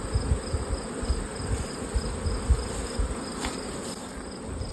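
Dense, steady buzzing of honey bees working around single brood chamber beehives during a honeyflow, many insects droning close to the microphone with no talk.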